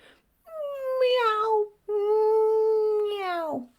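A person imitates a cat's meow with two long, drawn-out wailing calls, each sliding down at the end, sung close and clear.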